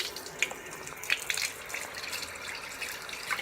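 Tap water runs into a kitchen sink as a cold brew coffee maker is rinsed out, a steady close splashing with small clinks and drips over it.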